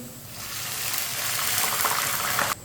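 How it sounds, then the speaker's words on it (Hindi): Water poured into a pan of lightly browned frying onions while cooking namkeen chawal, a steady hissing gush and sizzle rising over a couple of seconds, close and fairly loud, then cutting off abruptly near the end. "थोड़ा सा पानी डाल लेंगे।"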